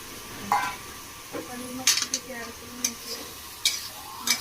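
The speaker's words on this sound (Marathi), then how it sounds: "मसाल्यामध्ये आपण मिक्स करून घेऊ" Paneer is stirred into masala in a pan, giving a quiet background sizzle broken by scattered spoon clinks and scrapes against the metal.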